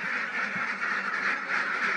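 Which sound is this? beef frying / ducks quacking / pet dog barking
ducks quacking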